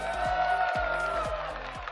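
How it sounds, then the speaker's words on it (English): Steady applause from an arena crowd at PAX West 2022, dense and continuous, with a sustained musical tone running underneath and a few soft thumps through it. "We have, give them a round of applause, Bobby, Wasabi, and Moxie."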